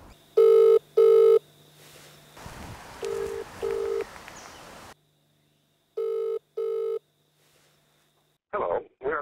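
A telephone rings while a call to a seller goes through, with paired bursts of ringback tone separated by pauses and a faint dial or line tone between them, plus some brief noise near the end.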